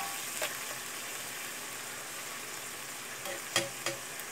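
Onion sizzles around a Salisbury steak in a cast iron pan. The frying hiss is constant and close, broken by a few sharp utensil scrapes and clinks near the end.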